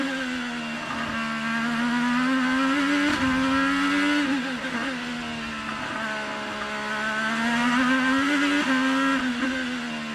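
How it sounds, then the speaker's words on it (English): Race car engine on track during a Detroit race, revving hard and easing off in repeated throttle surges with brief dips for braking, loud and steady without a break. "Hear him working the throttle, touching the brakes."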